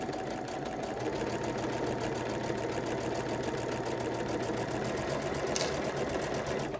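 A sewing machine runs steadily and continuously while top stitching close to a fabric edge using an open toe foot, a fast even mechanical whir without talk.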